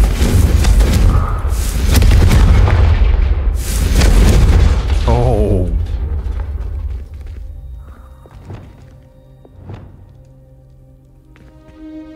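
Fire spell explosion in the video game Hogwarts Legacy: a loud, deep booming blast with rolling rumble that fades over several seconds into quieter game ambience and a few thuds.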